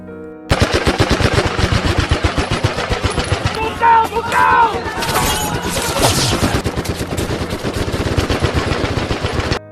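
Rapid machine-gun bursts and single gunshots from a war film scene of Nazi soldiers attacking a crematorium, loud and dense, with brief pauses between volleys and a voice faintly present beneath the gunfire.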